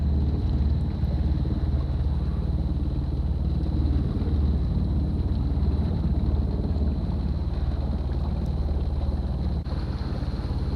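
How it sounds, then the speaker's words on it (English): A sailboat motoring under engine on glassy calm sea with no wind, a steady low engine drone with water rushing along the hull and light wind buffeting on the microphone, continuous and close. "obviously no wind, so we're motoring here"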